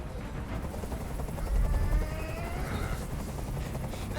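Helicopter rotor thumping overhead in the Detroit: Become Human video game, a steady loud low chop with a rhythmic pulsing texture that stays constant throughout, mixed with other game noise.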